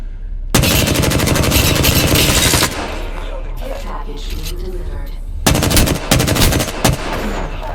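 Rapid automatic gunfire in the video game Apex Legends: a loud sustained burst, then scattered shots, then another heavy burst with a few trailing single cracks, with voices talking underneath.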